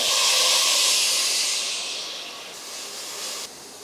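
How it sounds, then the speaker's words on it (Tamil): Sliced beans, potato and kohlrabi sautéing in a hot pan, a loud hissing sizzle right at the start that gradually settles and fades; no one speaks. "நெக்ஸ்ட்டு வந்து இந்த காயெல்லாம் கொஞ்சம் வதக்கிடணும்"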